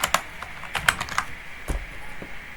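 Keys clack on a computer keyboard while HTML code is typed, a quick irregular run of crisp close taps with brief pauses between bursts and no voices.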